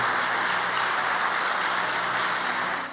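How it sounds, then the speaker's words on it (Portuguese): A large church congregation applauds in a dense, continuous wash of clapping, loud and sustained throughout before easing slightly at the end. "Você pode dar um aplauso ao Senhor?"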